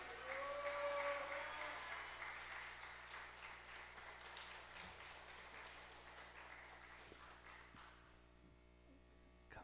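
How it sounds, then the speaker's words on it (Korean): A church congregation at an evening revival service claps warmly to welcome the pastor, a soft, steady patter of many hands over a constant low electrical hum, with a few voices audible early on. "우리 할렐루야 박수로 뜨겁게 박수하면서 맞이합시다."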